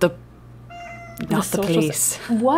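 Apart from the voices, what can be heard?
cat meowing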